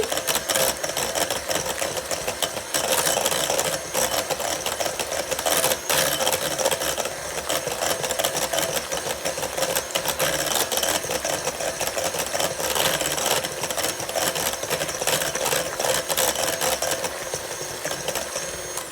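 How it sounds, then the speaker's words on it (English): A hand mixer beats banana pudding ingredients in a bowl. The motor gives a continuous, close, buzzing whir with faint rattling, steady from start to finish with no talk. "you're gonna take this same hand mixer and we're gonna beat these together."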